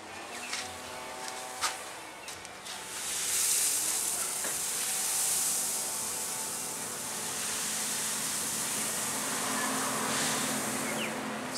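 Grain being stirred into hot brewing mash for a chocolate stout, with chocolate malt and crystal 60 in the grist, giving a continuous soft hiss and wet swishing that rises slightly after a few brief knocks at the start.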